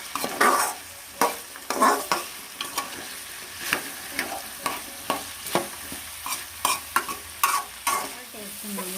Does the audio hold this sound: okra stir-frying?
yes